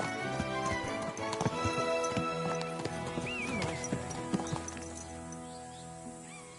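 Hooves clip-clop in a quick, steady rhythm alongside a horse's whinny, with layered tonal background sounds, from the video game Kingdom Come.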